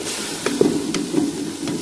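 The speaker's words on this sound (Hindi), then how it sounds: "और भूनना है इस तरीके से" Vegetables fry in a pan with a steady close sizzle, with occasional soft stirring clicks through it.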